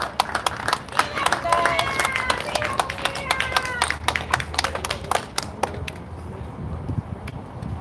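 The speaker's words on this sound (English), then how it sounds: "One more round of applause for these 2" Applause after a boxing press conference for Jaime Munguia versus Gabe Rosado, with scattered claps and some talk mixed in at first, thinning out toward the end.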